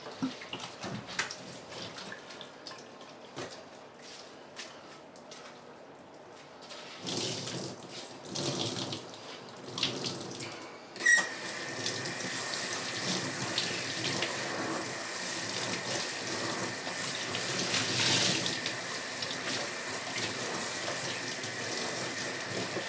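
A cleaning cloth, an old towel, is swished and rinsed in water, with soft sloshing at first and then a steady rush of running tap water filling a sink.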